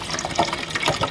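Bottled water pours from the bottle into the water reservoir of a Bartesian cocktail mixer. It makes a close, continuous gurgling splash as the reservoir fills.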